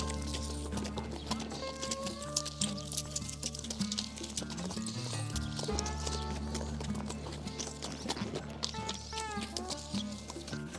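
Horse hooves clip-clop during a ride in Cappadocia, an even trotting rhythm under a steady music-like background with tonal layers.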